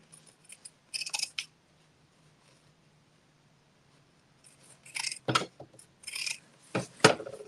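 Scissors snip through a sewn fabric seam while trimming a garment, a few quick crisp cuts at the start and then a cluster of sharp close snips after a quiet pause.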